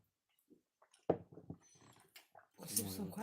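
A dog whimpers and whines softly in its sleep in short, uneven bursts, close by, with brief faint voices and some rustling around it.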